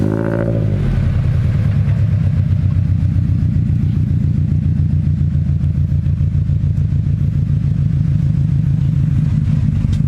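A three-wheeled motorcycle's engine chugs loud and close in a steady, rapid pulsing throb, with a rising rev at the start and then an even, continuous rumble throughout.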